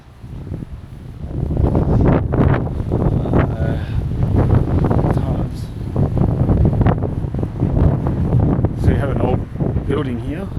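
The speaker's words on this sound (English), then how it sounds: "So it's still very windy around the area, it seems." Gusty wind on a street in the heritage town of Burra, South Australia, rumbling heavily against the microphone in surges while a person talks through it.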